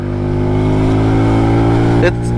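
The engine of a Benelli Tornado Naked T125 motorcycle revs on a downshift, a loud close buzzing drone that holds steady and then blips briefly near the end, with someone talking over it.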